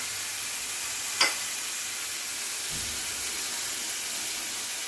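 Prawns frying with spices in a pan give off a steady, soft sizzling hiss, with one sharp click early on and a faint low thump later.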